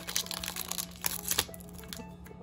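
A 2019/20 O-Pee-Chee Platinum hockey card pack wrapper is torn and crinkled open by hand, producing a close run of crackling, ripping bursts without any talk.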